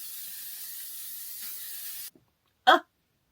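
A steady fine hiss of face mist spray for about two seconds, then a pause and a short, sharp burst of spray close by.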